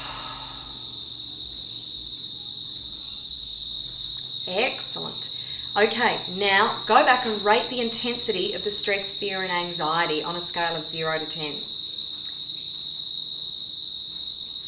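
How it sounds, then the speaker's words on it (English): Australian summer crickets and cicadas sing in a constant, steady high buzz throughout, heard under a person talking in the foreground. "it's the Australian summer and we have crickets and cicadas and they are singing."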